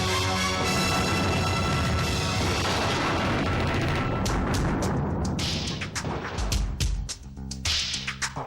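A dense, continuous roar of heavy gunfire and blasts, then sharper separate shots cracking out one after another as the barrage thins.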